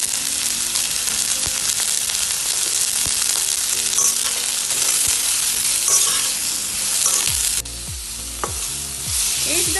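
Cauliflower stir-frying in a pan over a medium flame sizzles loudly and steadily, broken by scraping and stirring strokes and a few sharp clinks. Near the end the sizzle drops and the stirring becomes more distinct.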